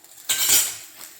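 Bhakri flatbread flipped on a hot pan with a metal utensil, a single short scrape and clink of metal against the pan, close and fairly quiet.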